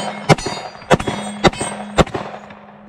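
Smith & Wesson M&P 10mm pistol firing at an outdoor range, four loud sharp shots at roughly half-second intervals, each with a ringing echo that trails off.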